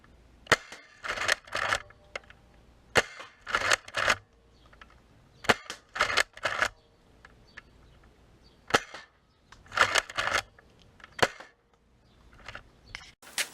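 Several Nerf blasters firing foam darts, sharp snapping pops in short bursts and single shots spread across the stretch, fairly close with quiet gaps between volleys.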